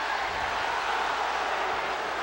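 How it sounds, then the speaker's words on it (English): A college basketball arena crowd at a 2004 Oklahoma State at Oklahoma game boos a call, a dense, sustained roar of many voices with no break. "Well, the crowd doesn't like it"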